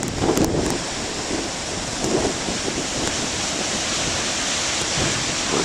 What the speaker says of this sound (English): Waves ain't too shabby here.